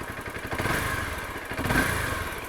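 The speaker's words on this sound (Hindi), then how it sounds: "आवाज़ कुछ ऐसी है बाइक की, आइडल RPM पे आवाज़ इसकी।" A Honda CBR 250R motorcycle idles close by, its engine giving an even, continuous putter with a slight swell, alone with no talk.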